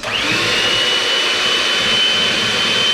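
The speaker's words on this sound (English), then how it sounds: "Whisk to stiff peaks." Electric whisk whipping egg whites toward stiff peaks, a loud close motor whine that starts abruptly, holds a steady high-pitched buzz for about three seconds, then cuts off.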